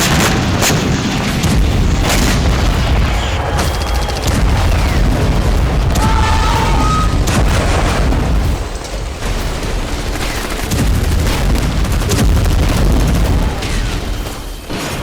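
Heavy booms and bursts of gunfire from war footage of bombing and clashes in the West Bank, dense and continuous across the whole stretch, loud and reverberant with no clear speech.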